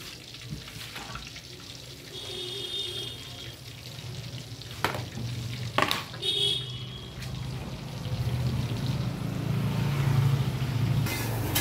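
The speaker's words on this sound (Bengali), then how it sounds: "দেখো পকোড়াটা তো প্রায় হয়ে এসছে" Small pakoras, including chicken pakoras, frying in hot oil produce a steady, moderately quiet hiss that swells toward the end, with a few sharp clatters of utensils.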